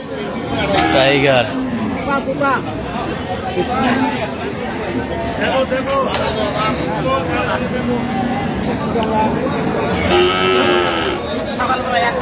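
Cows and calves moo repeatedly at a busy village cattle market in Bangladesh, several loud drawn-out calls near and far over a constant crowd babble of bargaining voices.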